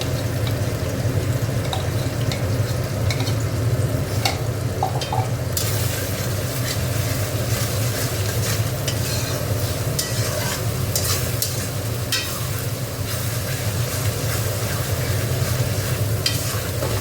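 Chicken curry masala paste fries and sizzles in a pan while a spoon stirs it steadily, a continuous close hiss with scraping strokes throughout and no talking.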